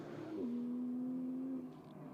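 A GT2 race car with about 700 horsepower passes on Sonoma Raceway, a steady engine tone held for about a second before fading off, with no talk over it.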